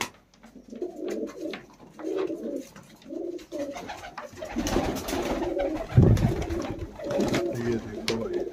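Punjabi Malwai pigeons coo in soft, repeated low phrases close by, with rustling and a few thumps in between.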